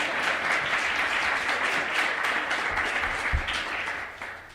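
Conference audience at the Diplomatic Academy in Vienna applauding, a steady dense wash of many hands clapping that holds for several seconds and thins slightly toward the end.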